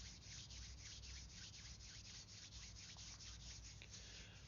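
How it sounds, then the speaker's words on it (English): Soft, continuous rubbing of two hands together, close and quiet, with a steady rhythmic friction hiss and no talking. "Perhaps bring the hands together if you wish. You can give them a little rub."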